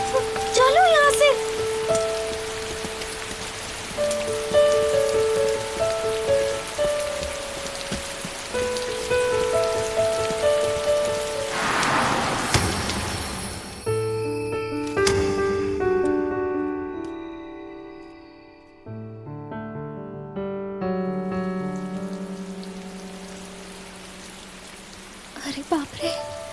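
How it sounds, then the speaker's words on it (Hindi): Heavy rain pours steadily throughout a dubbed Korean drama scene, a dense hiss beneath music and voices. Toward the middle the music swells and then thins out. "बारिश हो रही है"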